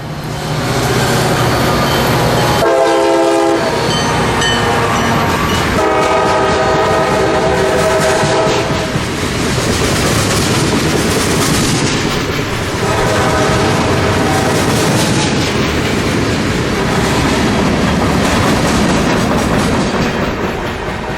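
A local switcher train near Cartersville Yard in Georgia rolls past loudly and close by, with repeated horn blasts over a continuous rumble and clickety-clack of the wheels on the rails.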